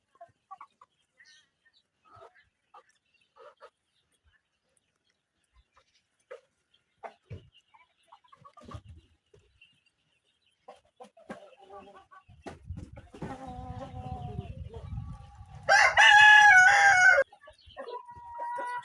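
Bahama roosters at a farm in Ullapara, Sirajganj: scattered soft clucks and rustling, then murmuring calls building up before one loud nearby crow near the end.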